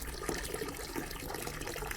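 Tap water pours steadily into a half-full bathtub of warm water mixed with shower gel, a continuous close rushing and splashing with no pauses.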